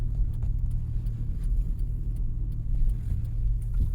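Car engine idling and rumbling low and steady as the car slowly backs into a parking spot, close and continuous with faint clicks and rattles, no voices.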